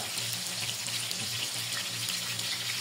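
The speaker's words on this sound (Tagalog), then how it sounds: "Kaya natin maprito yung sa side." Banana fritters (maruya) frying in a pan, a loud close steady sizzle of hot oil with bubbling crackle, no talk.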